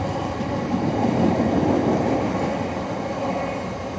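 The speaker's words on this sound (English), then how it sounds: "One of the fleet of 1980s built class 455s." A 1980s-built class 455 electric train rolls slowly past toward a double yellow signal, a steady close rumble of wheels and motors that swells slightly in the middle and holds throughout, with no voices.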